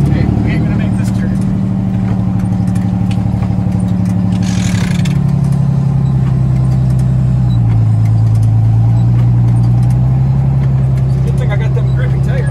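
An International truck with a Detroit Diesel 6-71 turbo engine drives through a rough, sticky field, its diesel drone steady and loud throughout with shifting pitch as load changes, and a voice speaks over it.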